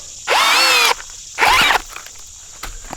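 A cordless drill, taken out of hammer mode, whines in two bursts driving a screw log splitter, the first longer than the second, with a brief pause between and quiet clicks afterward.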